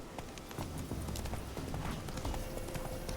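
Horse hooves clip-clop steadily at a trot in The Witcher 3, a close, continuous run of hoofbeats with faint game ambience underneath.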